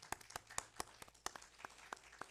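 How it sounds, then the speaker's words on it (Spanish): A small audience claps after a talk, a quiet, sparse run of separate hand claps with an uneven rhythm, faint and heard alone. "Y este es el momento en que el público aplaude la intervención de Carlos."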